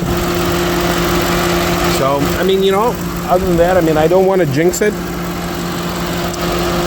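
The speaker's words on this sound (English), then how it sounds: "overall, the engine is running fine" A Lincoln Town Car engine idles with a steady low hum and a faint mechanical drone, running evenly beneath someone talking close by.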